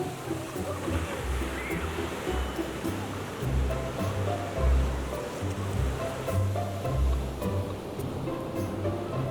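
Ocean waves break on the shore at Zihuatanejo Ixtapa, a loud, continuous surf roar with heavy low surges rolling in and out.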